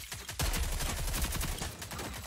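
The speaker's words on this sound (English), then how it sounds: "Oh, I got sniped." Sustained video game gunfire, with rapid loud shots crackling close and continuous over a couple of seconds, as in a multiplayer firefight with sniping.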